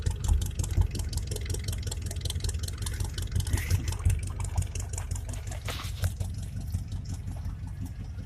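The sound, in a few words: pickup truck engine idling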